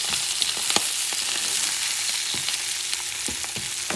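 Blackened rainbow trout sizzles hard in a hot pan with a dense, steady frying hiss, broken by small pops and crackles. No one speaks.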